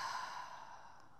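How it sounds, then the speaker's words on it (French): A single audible exhale during yoga breathing, a soft airy rush of breath that fades out over about a second, close and quiet with no talking. "Expirez, faites du bruit."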